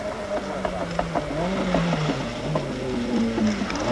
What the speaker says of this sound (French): Terrier fait rugir férocement la cavalerie de la Porsche